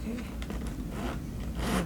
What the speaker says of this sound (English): So the zipper does work.